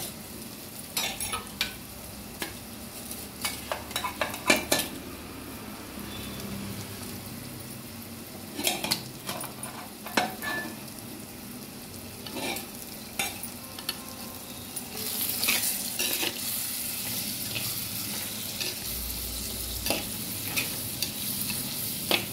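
Raw prawns dropped into a pan of softened onions for a prawn and okra stew, with a steady sizzle and frying hiss, bursts of stirring and scraping, and a louder spatter near the end.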